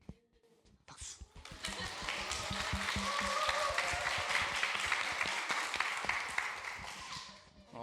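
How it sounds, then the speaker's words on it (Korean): Congregation applauding during a Sunday worship service at a Jeju church, clapping swelling after a brief pause into a sustained even roar that fades near the end, somewhat distant in the room. "박수."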